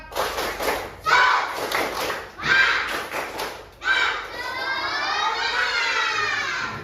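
Classroom children do a patterned spirit clap, several groups of quick claps and thuds in rhythm, then a long collective cheer from the kids that holds to the end.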